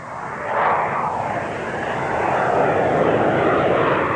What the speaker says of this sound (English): A frontline attack aircraft of such capability is the RAF's Harrier.